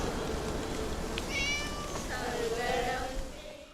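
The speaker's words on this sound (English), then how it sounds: "Subtle cat-like sounds are woven into the background" Soft cat meows drift through the background of a film scene, a few faint, drawn-out calls over a steady noisy ambience.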